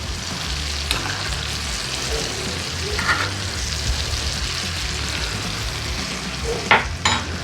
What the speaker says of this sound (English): We're done frying them up, guys.